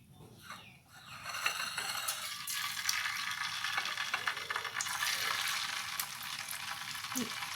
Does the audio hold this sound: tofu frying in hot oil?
yes